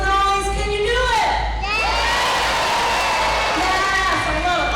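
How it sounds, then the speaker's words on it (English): A live audience on an Indiana Jones movie set at Hollywood Studios cheers, shouts and whistles loudly, with rising whistles and a continuous roar of voices throughout. "I want you to clap, cheer, whistle, make lots of noise"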